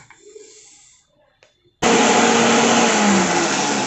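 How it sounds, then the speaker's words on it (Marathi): A mixer grinder grinds sesame seeds: after quiet handling noises, the motor starts abruptly into a loud, dense, steady roar that keeps running to the end. "आता आपण तीळ बारीक करून घेऊ"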